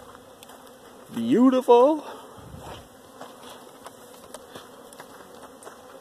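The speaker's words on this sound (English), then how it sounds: "In this yard, all you hear are bees buzzing." Bees buzzing around a yard in early spring, a continuous faint drone with one loud close fly-by swooping past; a person says a single word.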